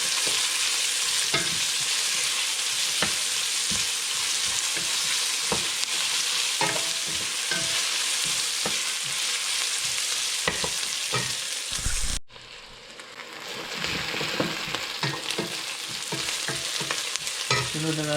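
Onions frying in a pan and being stirred until golden brown for chicken sotanghon soup, a loud continuous sizzle with frequent spatula scrapes, briefly dropping before resuming.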